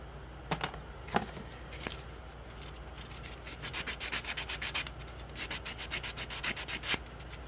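Gel-X nail extensions are sanded at home with soft rubbing strokes, a few sharp taps at first, then a quick run of rapid, regular scraping passes, close and fairly quiet with no talking.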